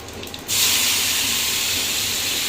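A spice paste is tipped into a hot pan on a gas flame and immediately bursts into a loud, steady broadband sizzle that holds for a couple of seconds after a brief quieter start.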